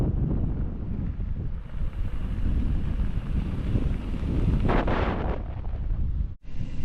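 Strong wind roaring steadily across a microphone on the Continental Divide, loud and buffeting throughout with a brief gust swelling near the end.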